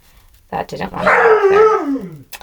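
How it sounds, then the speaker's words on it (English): A pet dog barks and howls in a drawn-out, wavering call behind a person speaking, the yowl rising and falling for about a second and a half. "I'm really sorry about my dog barking in the background"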